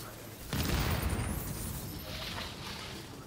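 A grenade blast in a first-person video game, a sudden loud low boom followed by a sustained rumbling tail, heard up close.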